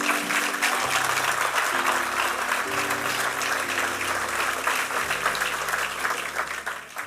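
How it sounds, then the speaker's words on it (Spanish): Church congregation clapping during a Spanish-language service: sustained, lively applause throughout, with low organ or keyboard chords held underneath. "Dale un aplauso al Señor."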